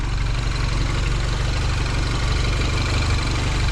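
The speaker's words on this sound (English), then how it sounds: "I'm just gonna let it idle, make sure everything checks out fine." An R56 Mini idles after a big turbo upgrade with a steady, low, throbbing engine rumble. It is close and constant, and there is no talk.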